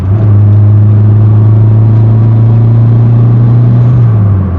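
A turbocharged car with an L15 engine pulls hard as a loud, close, steady engine drone with a deep rumble, easing slightly at the end, heard from inside with no talking.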